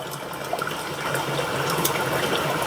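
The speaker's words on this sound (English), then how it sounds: "The gentle sound of lapping water, crackling fire." Gentle lapping water at a mountain shore at sunrise, a soft continuous wash and trickle held at a steady moderate level with no voices.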